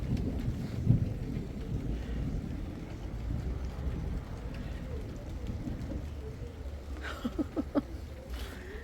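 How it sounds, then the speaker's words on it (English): Rolling thunder with rain during a stormy spell outdoors, a low steady rumble through most of the clip with a louder crack near the start and a few sharper bursts toward the end. "Hear the thunder?"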